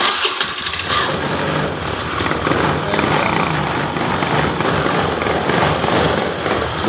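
Honda Beat FI scooter engine running rough and sputtering as it is revved, a loud, close, continuous buzzing drone that stays uneven throughout.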